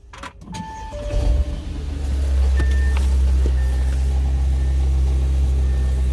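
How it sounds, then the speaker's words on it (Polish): A BMW X1 engine at a Long Beach auction lot starts and settles into a steady, loud idle, with a buzzing exhaust rattle from underneath layered over the low drone. "To brzęczy wydech gdzieś"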